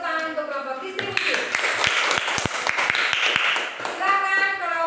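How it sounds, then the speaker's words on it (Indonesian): Brief burst of classroom clapping for a student group, scattered hand claps from a small crowd with a voice speaking before and after. "kita kasih tepuk tangan untuk kelompok distribusi."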